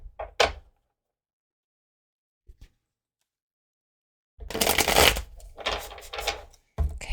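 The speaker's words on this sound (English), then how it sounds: "let me just shuffle this deck really quick" A deck of tarot cards being shuffled: two brief riffles early on, then a burst of rapid papery flutters and snaps after a pause, close and moderately loud, with no talk.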